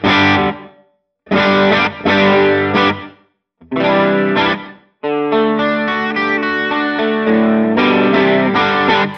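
Electric guitar runs through a Line 6 Helix tape echo with the saturation turned up, playing loud chords that stop and restart, with warm, slightly gritty repeats trailing after each phrase.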